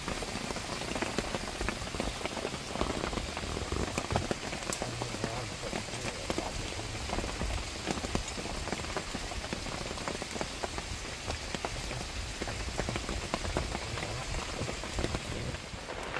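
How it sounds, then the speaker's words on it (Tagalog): Steady rain pours down on a mountaintop nipa hut, a dense, even hiss of drops hitting surfaces that keeps up without a break, close and continuous with no talking. "Hindi pa rin po tumila yung ulan."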